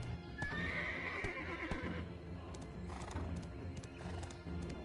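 A horse in the Black Desert video game whinnies loudly, then its hooves clip-clop in a quick irregular rhythm on the ground, fairly close and clear with no talk.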